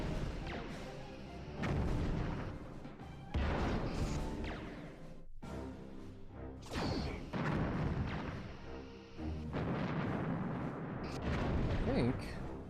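Starship weapons in Star Trek: Bridge Commander fire in a string of heavy blasts and crashing impacts, repeating every couple of seconds under a dense, continuous din.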